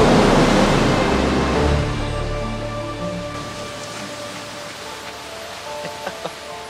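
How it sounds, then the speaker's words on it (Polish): Ocean waves break on an Icelandic beach with a dangerous shore. The roar is loud at first, then fades into a softer wash of surf as the surge recedes, with a few faint knocks near the end. "Ta fala, zobacz w ogóle, patrz jak ta fala idzie."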